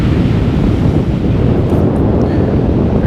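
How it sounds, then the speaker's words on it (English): Strong wind buffets the microphone outdoors at a fishing spot, a steady loud roar of gusts with a faint wash of water underneath, constant throughout with no voices. "There's that wind that's been blowing all day. Straight out of the north."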